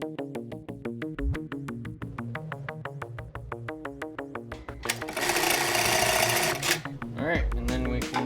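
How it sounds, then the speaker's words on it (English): A sewing machine run by foot pedal while winding its bobbin: a steady, rapid mechanical clatter in even beats, then a brief surge of faster whirring, with a person talking over it. "now that the machine is on, I can push on the foot pedal, and that is going to fill up our bobbin."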